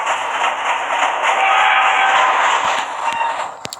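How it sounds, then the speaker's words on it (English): A train in the Roblox game Jailbreak rolls by with a loud, steady rushing rumble that fades slightly, ending in a few sharp clanks. "Cause of death, run over by a train."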